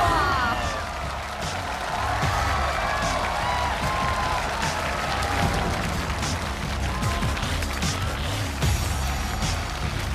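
Audience applause and cheering fill a television studio stage as 30 specially trained challenge assistants, models matched in height, build and clothing, are welcomed out, a steady crowd roar running throughout with music underneath.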